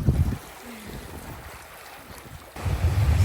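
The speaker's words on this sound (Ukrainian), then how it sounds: "Давайте будемо знімати, як її накриє хвилею." Ocean waves wash over a small rocky islet in a steady, rushing surge. The water swells loudly at the start and again near the end, with wind noise buffeting the microphone.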